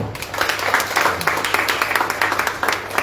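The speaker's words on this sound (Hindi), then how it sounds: "ताली बजाएंगे।" A congregation claps together in church, a brisk, fairly loud burst of many hands that stays steady and continuous through the moment.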